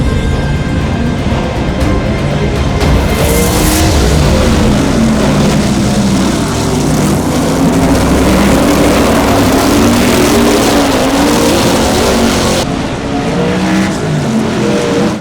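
Several race cars roar around the track during a heat, a dense, loud, continuous engine drone with passing surges and a brief burst of tire or skid noise near the start.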